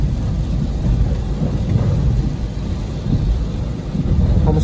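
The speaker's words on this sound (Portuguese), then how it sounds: "Olha como ele se comporta na chuva aqui nesse aguaceiro." Heavy downpour drums on a Citroen C4 Cactus as it drives through a rainstorm, a loud, dense, unbroken roar of rain with low rumbling underneath and no talking.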